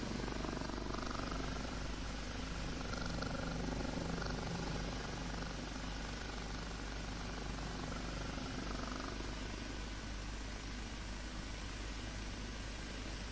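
OH-58D helicopter in a flight simulator, a steady, continuous rotor and engine drone holding at an even level throughout with no talk over it.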